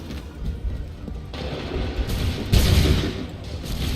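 A musket volley from massed infantry in Assassin's Creed III, a ragged burst of gunfire booming loud and close, with overlapping shots cracking over several seconds.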